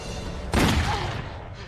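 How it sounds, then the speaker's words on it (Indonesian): Gunfire from the 2007 film Primeval, where rebels are shot at near a river: a sudden loud burst of shots over a dense, noisy background that lingers and slowly tails off. "Untung saja Jojo menyelamatkan mereka dengan menembak para pemberontak yang mencoba membunuh mereka semua."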